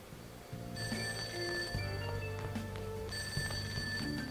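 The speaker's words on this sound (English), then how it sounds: "Oh, there's a ringing. Not coming from my phone. That's coming from downstairs." A telephone rings downstairs in the Persona 5 Royal video game, two bright repeating ring bursts heard clearly over a soft game music bed, with no talking.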